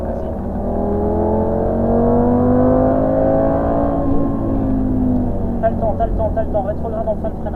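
A Lamborghini Gallardo LP560-4 engine revs and accelerates loudly up close on track, its pitch sweeping upward, with gear changes and a voice talking over it.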